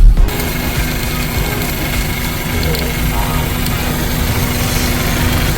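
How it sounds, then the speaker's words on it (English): A 2001 Honda Accord with an oil leak at the VTEC solenoid idles close by with a steady mechanical hum and light rattle. A little gas is given but brings no sharp rise in revs, and a person speaks over it. "Give it a little bit of gas as well"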